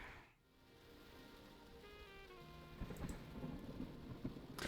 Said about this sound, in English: proper rain sounds in the game.